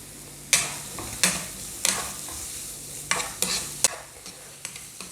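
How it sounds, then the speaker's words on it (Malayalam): Two small, finely chopped onions sauté in hot oil for an egg burji, with a steady soft sizzle broken by repeated sharp scrapes and clacks of a spoon stirring against the pan at irregular intervals. "എണ്ണ ചൂടായി വരുമ്പോൾ അതിലേക്ക് സവോള ഇട്ട് കൊടുക്കാം."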